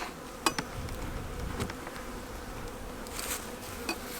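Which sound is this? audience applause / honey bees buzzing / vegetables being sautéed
honey bees buzzing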